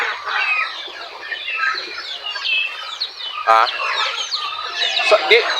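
Plymouth Rock chickens and other fowl on a farm cluck and call continuously, with overlapping bird chatter and a sharp squawk near the end, fairly close and loud.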